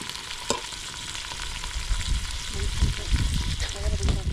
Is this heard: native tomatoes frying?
yes